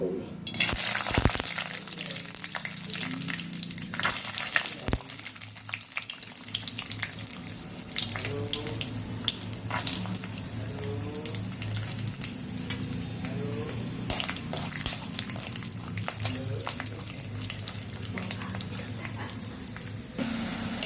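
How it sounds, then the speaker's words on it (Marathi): Steady hiss of peanuts frying in hot oil throughout, with occasional scraping and clinks of a spoon stirring in a wok. "त्यात आपण आता शेंगदाणे तळून घेऊ."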